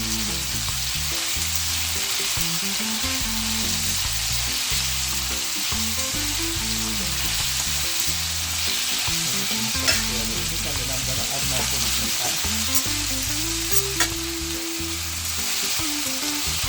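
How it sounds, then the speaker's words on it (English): Chopped vegetables sautéing together in a pan for Jamaican bully beef and macaroni, a steady close sizzle with scraping stirs throughout and soft tonal music underneath, no talking. "I'm gonna saute everything together now."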